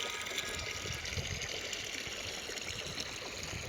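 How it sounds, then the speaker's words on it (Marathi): Irrigation water runs onto a fodder crop in a farm field, a steady continuous trickling gush with a faint low hum, alone and without voices. "चाऱ्यावर पाणी चालू आहे"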